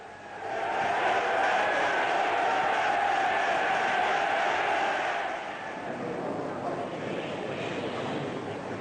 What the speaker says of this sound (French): L'Assemblée réagit immédiatement par des acclamations frénétiques à l'adresse du prince royal.